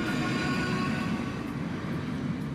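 A train rumbling along continuously, a dense steady roar with low rolling noise and faint high whine, no voices.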